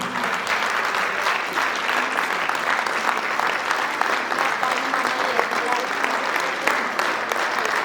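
A concert audience gives steady, dense applause that holds for several seconds at an even volume, with faint talk underneath.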